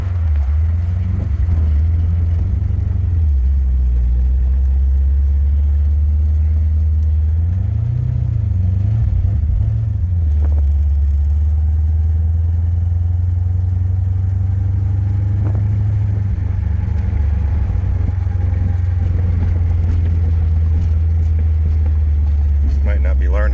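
A car named Bert, fitted with twin turbos, gives off a loud, continuous low engine drone while accelerating, with the pitch swelling and settling a few times as it pulls.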